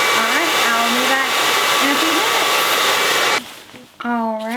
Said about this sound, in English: I just turned off my hair dryer